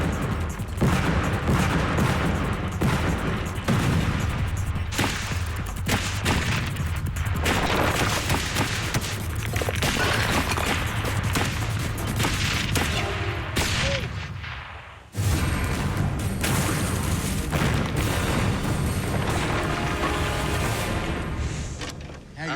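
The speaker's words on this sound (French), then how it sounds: "Je continue de tirer en m'ajustant petit à petit pour être plus précis." A light machine gun fires 7.62 mm rounds into blocks and a trench, a loud, dense, continuous roar of gunfire that drops out briefly around the middle, then resumes just as heavily to the end.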